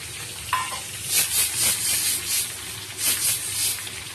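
Onions sizzling and frying in hot oil in a pan, with repeated stirring scrapes over a steady hiss, close and fairly loud.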